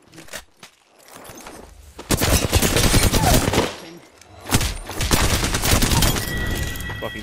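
Automatic gunfire in a video game rattles out in two long, loud bursts, with a short lull between them and a faint opening shot.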